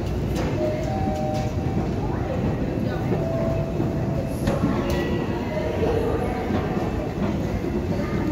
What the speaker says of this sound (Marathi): आता येईलच ट्रेन